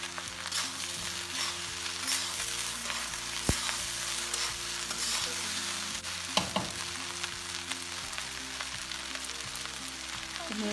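Egg fried rice stir-fried with soy sauce and black pepper, a steady broad sizzle running throughout with scraping stirs and a couple of sharp utensil clacks against the pan, under a low musical bed.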